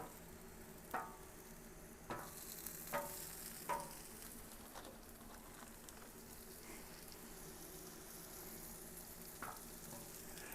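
Sausage and hamburger patties fry on a cooking surface with a soft, steady sizzle, heard fairly faint, with a few light clicks of a utensil early on.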